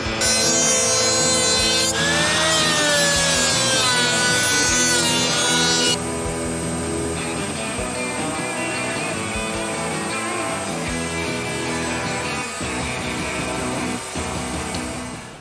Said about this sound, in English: I need to get these maple pieces into the thickness planer and then run everything through the drum sander